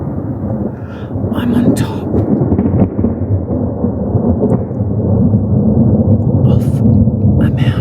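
Thunderstorm over a jungle rainforest, a loud steady low rumble of thunder and rain filling the whole stretch, with brief higher crackles and a person speaking in the foreground.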